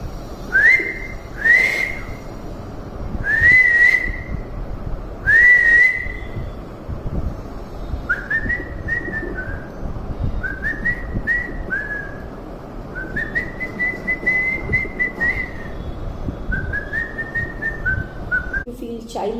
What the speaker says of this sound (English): So whistling is very good because whistling is an activity wherein there is a good amount of exhalation happening.